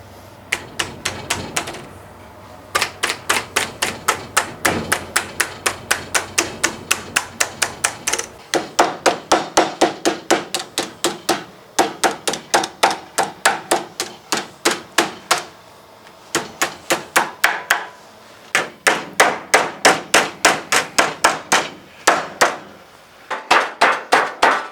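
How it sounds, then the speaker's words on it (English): A copper hammer taps down a lid made from recycled timber for a ten-frame bee hive. Quick, even knocks come close and loud in runs of a dozen or more, with short pauses between the runs. "I'm just going to tap it all down with a hammer nice and slowly."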